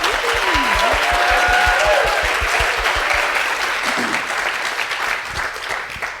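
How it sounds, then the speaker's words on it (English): Audience applause for competitors at the 2024 LLNL Research SLAM, a sustained burst of clapping from a crowd that holds steady and then gradually thins toward the end. "let's give a big round of applause to the competitors of the 2024 LLNL Research SLAM"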